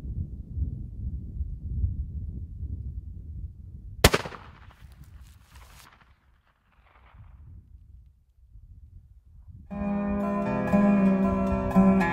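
A single sharp gunshot fired at a deer during a hunt, a loud sudden crack against quiet low rumble, followed by fading echo, faint rustling and later a steady tonal hum.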